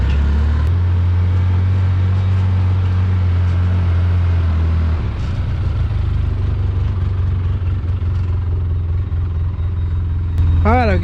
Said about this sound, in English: As soon as you hear that Ranger crank up, you gotta go.